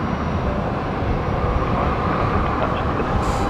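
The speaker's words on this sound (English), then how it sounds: "Show us the trains. We can hear them." A train rumbles past close by near Brisbane Airport at night, a steady broadband roar of wheels and carriages that holds loud and even throughout, with no talk over it.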